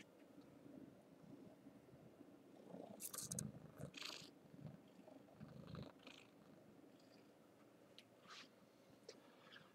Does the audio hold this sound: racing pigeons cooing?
no